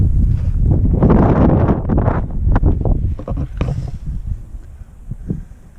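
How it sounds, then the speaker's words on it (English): Wind gusting at Wildrose Station in Death Valley, loud blustery rumbles buffeting close to the microphone, strongest at first and easing off toward the end. "Here comes the wind."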